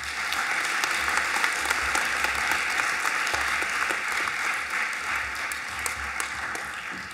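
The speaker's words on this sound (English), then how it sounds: "Please give Cotty House and their tutor teacher, Ms. Verbruggen and Mrs. Law" Sustained applause from an audience at a school valedictory assembly, honouring a house group and its tutor teachers; steady, dense clapping fills the room throughout without a break.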